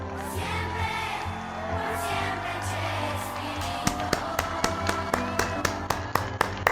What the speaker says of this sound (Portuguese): Bate palma, gente